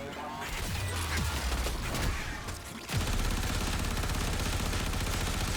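Rapid automatic gunfire from Gauss's primary weapon in Warframe, a dense stream of shots that turns into a steady, even rattle, loud and close.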